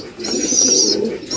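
A loud, close pigeon coo rolls out in one brief burst near a loft holding young pigeon chicks.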